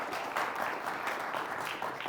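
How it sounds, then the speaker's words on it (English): An audience applauds a quiz bowl team, steady clapping from a crowd that stays even and moderately loud for a couple of seconds, with no voices. "How about a round of applause for the Keith Country Day Cougars?"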